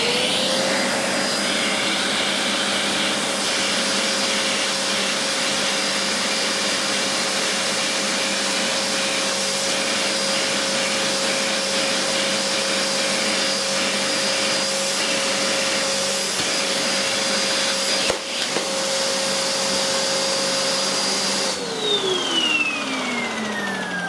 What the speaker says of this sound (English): I'm just going to give them another brief hoover